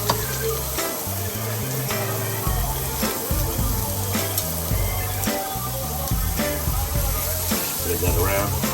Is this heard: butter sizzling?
yes